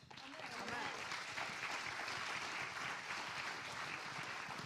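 Audience applause rolls through a crowd at the Chrześcijańskie Granie 2022 Christian music festival, a steady, dense wash of clapping that holds evenly for several seconds.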